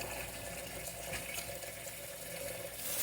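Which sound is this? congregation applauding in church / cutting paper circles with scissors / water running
water running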